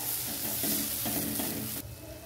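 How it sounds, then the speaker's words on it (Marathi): Chili, turmeric and coriander powders fry in hot oil, giving a loud, dense, continuous close-up sizzle with faint stirring, dropping a little in level near the end. "सर्व मसाले आपल्याला तेलात टाकून द्यायचे आणि हे छान जरा परतून घ्यायचे तेल सुटेस्तवर जरा"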